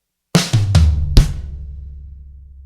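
A herta rudiment played down a drum kit from snare to rack tom, floor tom and kick, four quick hits in a row close by, ending with a boomy low thud that rings out alone.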